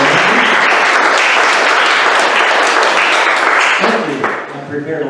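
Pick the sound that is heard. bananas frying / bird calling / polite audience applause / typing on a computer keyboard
polite audience applause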